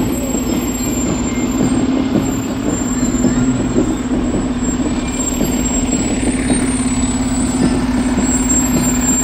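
Fire Engine 155 rolls by in a Pleasantville fire department parade, giving a steady, heavy diesel rumble that stays close and loud throughout, with faint crowd noise around it.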